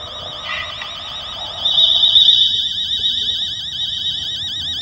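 A timer alarm in the horror video game Fears to Fathom rings with a loud, continuous warbling electronic tone, starting after a brief softer sound and sustaining steadily to the end.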